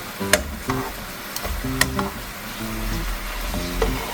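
Pork simmering in a honey garlic sauce in a pan, a steady bubbling sizzle with occasional sharper pops and clinks from stirring or turning the meat, close and fairly loud, no talking.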